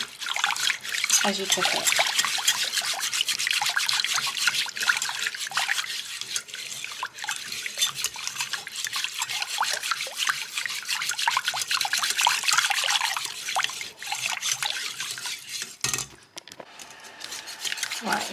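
Milk poured into a white sauce for lasagne while it is whisked, giving a continuous bright trickling, scraping swish of the whisk against the pan, with a voice talking briefly over it.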